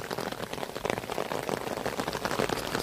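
Steady rain pours outdoors beside a swelling river, a dense, continuous hiss of drops striking surfaces, loud and close throughout with no voices.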